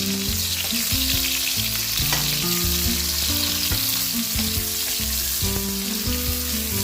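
Onion and garlic sautéing in hot oil for chop suey, a steady bright sizzle with rhythmic spatula scrapes and clanks against the pan, close and loud with no talking.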